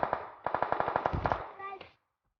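Rapid bursts of automatic gunfire from the mobile battle royale game PUBG Mobile, several quick volleys close and loud with a short break between them, then fading into silence.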